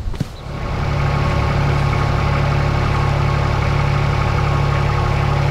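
A Toro Reel Master 3100D reel mower's engine runs at a steady, loud idle, a continuous low drone that holds unchanged throughout with no one talking.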